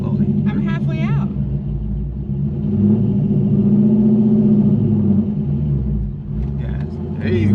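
A cammed Corvette with a manual gearbox gives a deep, loud rumble as the clutch is let out, the engine note swelling in the middle, while people talk over the start and end.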